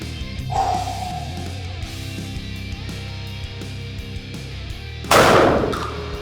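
A single heavy blast from an FN SLP semi-auto shotgun with an extended magazine tube firing buckshot, loud and close near the end of a stretch of steady background rumble.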